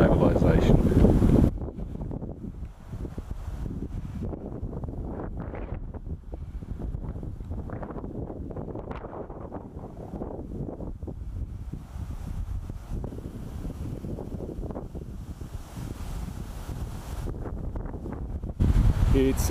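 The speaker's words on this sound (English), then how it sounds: "It's extremely windy at the moment, 20 knots or so, wild and cold." Strong wind of about 20 knots, cold and wild, rushes across an action camera's microphone in a steady low roar, with louder bursts at the start and end and a voice talking faintly underneath.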